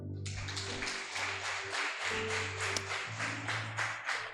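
A church congregation claps together in a steady, fairly quiet round of applause with a rapid patter of many hands. A low sustained musical drone plays beneath the clapping.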